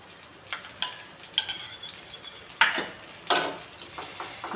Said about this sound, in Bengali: বাটারটা চারিদিকে মিশিয়ে নেব।